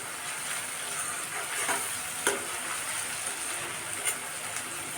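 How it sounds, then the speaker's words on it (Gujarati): Onions fry slowly over low heat for pav bhaji, a steady soft sizzle with occasional scraping stirs of the spoon against the pan, close and continuous with no talking. "ડુંગળીને સરસ આપણે ધીમા તાપે થવા દઈશું."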